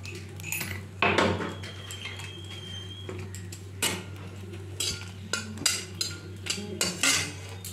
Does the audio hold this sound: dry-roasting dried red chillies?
yes